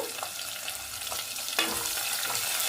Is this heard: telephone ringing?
no